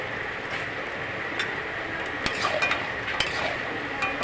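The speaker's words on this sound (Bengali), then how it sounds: "নাড়িয়ে চাড়িয়ে নেবো একটু চিনি দিয়ে নাড়িয়ে নিয়েছি" Labra, a mixed vegetable curry with sugar added, being stirred in a pan, giving a steady soft scrape and low sizzle with a few light clicks of the spoon against the pan, close by and with no talking.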